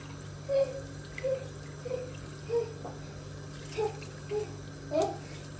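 Water drains steadily from boiled su böreği pastry sheets, a soft continuous trickle with faint voice-like chirps in the background.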